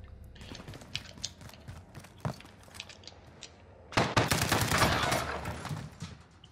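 Shotgun fire in an online shooter video game: scattered clicks and shots early, then a loud, dense burst of gunfire and clatter from about four seconds on, continuing to the end.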